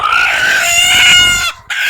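A newly hatched chick gives loud, high, sustained peeping calls up close, one long cheep running almost two seconds before a brief pause and another call.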